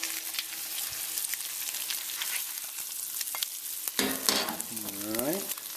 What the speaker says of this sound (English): I like my eggs over easy, so we're going to go ahead and flip these over